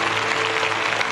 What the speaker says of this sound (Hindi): तालियां लगातार बजती रहे देवियों सज्जनों